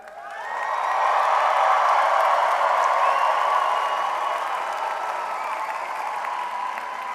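A large commencement audience at a university graduation ceremony breaks into sustained applause and cheering for the graduates, swelling within the first second and holding steady as a dense, continuous roar of clapping with scattered whoops.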